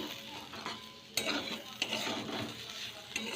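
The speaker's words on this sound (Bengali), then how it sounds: "একটু ভাজা বসিয়েছি মশলা দিয়ে" Vegetables fry with spices in a pan on a home stove, a close, continuous sizzle broken by the scrape and clink of stirring utensils against the pan.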